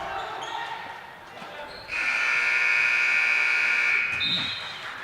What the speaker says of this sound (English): there's a late buzzer there